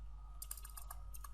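Quick bursts of keystrokes on a computer keyboard, a handful of light clicks in an uneven run over a low steady hum, close and fairly quiet.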